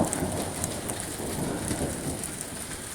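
Heavy rain pours steadily during a close April thunderstorm in Michigan, a dense, even hiss with a low rumbling undertone and no voices.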